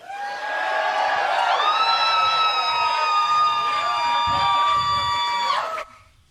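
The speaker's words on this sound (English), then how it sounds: "did you guys hear that woman scream?" At an election night gathering, a woman's sustained high scream rises over a cheering, whooping crowd and holds for several seconds before cutting off.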